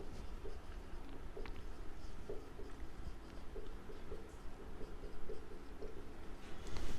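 A teacher writes figures on a classroom board, producing soft repeated scratchy strokes over steady room noise with no talking.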